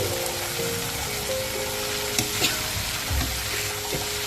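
Sliced stewed beef tongue hits hot oil in a pan with chili, setting off a loud, continuous sizzle and crackle, with occasional clanks and scrapes of stirring and no talking.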